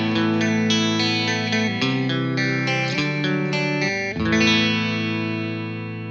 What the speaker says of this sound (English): if I'm just plugging this guy into that right there, I'm really happy because the guitar sounds exactly like the guitar